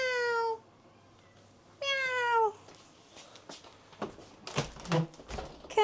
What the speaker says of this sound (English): Hey, nosy cat.